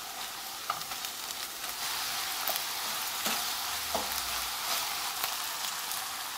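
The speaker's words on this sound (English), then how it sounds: "Once you've browned the meat, you want to go in with your garlic and cook that down for a couple minutes." Browned meat and garlic frying in a pan, giving a steady, close sizzle with brief stirring clicks over about six seconds and no talk.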